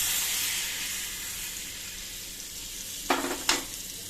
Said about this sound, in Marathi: सो मोहरी छान तडतडली की लाल तिखट ॲड करायचं